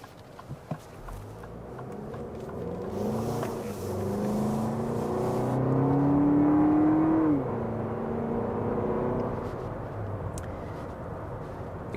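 A 2024 Lexus TX 350 in sport mode accelerates, its engine note rising in pitch and swelling in a smooth climb before easing off, heard muffled from inside the cabin over road rumble.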